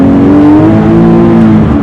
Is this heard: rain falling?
no